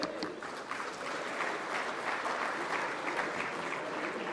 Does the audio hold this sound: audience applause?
yes